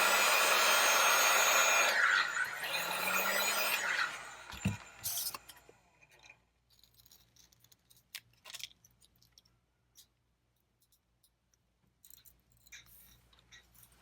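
Heat gun warming the touch screen adhesive on a 7th generation iPod Nano, a loud steady blowing hiss for about four seconds that cuts off, followed by faint clicks and handling noises.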